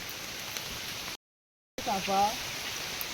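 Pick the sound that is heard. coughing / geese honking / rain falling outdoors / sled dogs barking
rain falling outdoors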